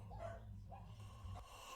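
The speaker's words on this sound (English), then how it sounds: "I even jarred the dogs awake. They started barking." Dogs bark faintly in short bursts after being jarred awake, distant and low under a steady background hum.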